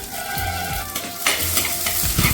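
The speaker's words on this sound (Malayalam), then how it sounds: "ഇനി നമുക്കിതിനകത്തേക്ക് ഒരു 10 വെളുത്തുള്ളി ചെറുതാക്കി അരിഞ്ഞത് ഇതിനകത്തേക്ക് ഇട്ട് കൊടുക്കാം" Chopped garlic sizzles in hot oil in a pan for a Kerala-style fish curry, with close, crackling frying and scraping stirs in short bursts.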